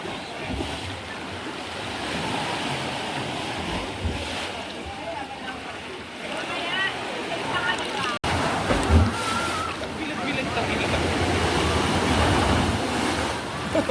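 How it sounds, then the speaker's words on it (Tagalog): Big ocean waves surge and crash on a beach in continuous rolling washes, mixed with wind buffeting the microphone, while people talk nearby. "Grabe, laki ng alon."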